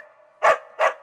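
A dog gives two short, loud barks about a third of a second apart, close by, with a steady low hum underneath and no talking.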